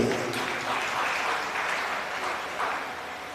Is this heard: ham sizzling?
no